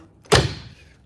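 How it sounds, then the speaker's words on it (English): The door of a converted school bus swings shut with one close, heavy thump, and a short rattle fades out behind it. "Close this door up."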